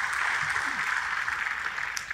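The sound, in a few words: congregation applauding in church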